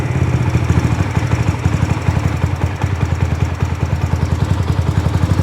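Yamaha Raptor 125 quad engine stuck at a crazy high idle, a loud, close, steady rapid-fire chugging drone that holds an even pace throughout with no talking.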